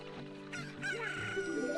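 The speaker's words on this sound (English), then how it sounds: "Alright, so now we got the chicken." A rooster crows in a Zelda randomizer game, one clear rising cock-a-doodle-doo call with clucking over steady game background music.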